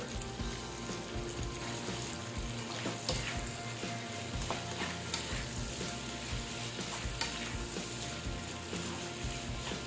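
Shrimp fry in a pan with salt and black pepper for sarciadong shrimp, giving a steady, dense sizzle that runs unbroken throughout, with faint stirring scrapes mixed in and no voices.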